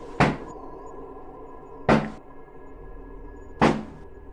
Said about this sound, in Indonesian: ketukan perlahan.